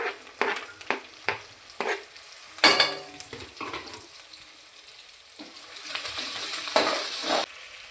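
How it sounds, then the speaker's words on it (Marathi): Coriander fries in hot oil for a mutton gravy, a soft sizzle broken by repeated scrapes and clatters of a spoon stirring in the pan. "कोथिंबीर टाकून घ्यायची तेलात."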